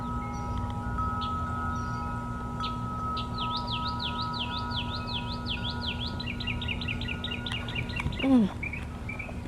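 A pet bird at home whistles a rapid series of rising, repeated notes, then a quicker run of chirps ending in a sharp downward swoop, fairly close over a steady background hum.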